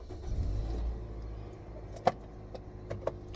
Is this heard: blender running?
no